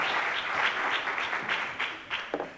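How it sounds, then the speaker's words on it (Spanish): Audience clapping at a talk on women's football held by a Valdepeñas club, a sustained round of applause that thins toward the end into a few scattered louder claps. "y les pido un aplauso para ellos."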